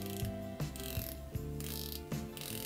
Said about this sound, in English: It's a 120 click unidirectional and it's loomed.